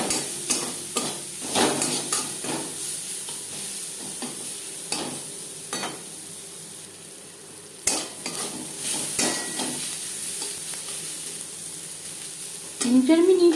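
Onions with turmeric powder and salt are fried and stirred in a pan for a rohu fish and eggplant curry. Close scraping strokes land at irregular intervals over a steady sizzle.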